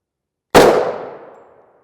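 A single bullet strikes a steel armor plate in a sharp, loud metallic clang that rings and fades over about a second, with silence before it.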